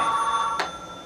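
A telephone rings indoors, a steady electronic trill carrying for most of a second before a short burst of noise cuts across it.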